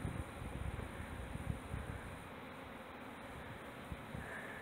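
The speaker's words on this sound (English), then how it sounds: "Kind of scary, shaking all them bees in and flying around." A honeybee swarm being shaken into a hive box and caught, a steady, dense low buzz of many bees humming close by with no talk over it.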